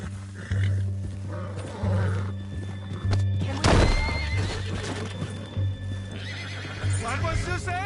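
A horse neighs and snorts close by while hooves clop steadily, with people talking over the scene and a loud burst in the middle.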